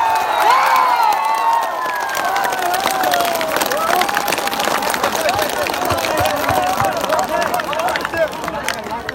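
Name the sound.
election rally crowd clapping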